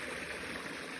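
Outdoor water fountain with pumps feeding its spray heads, a steady rushing splash of running water, continuous and fairly close, with no voices.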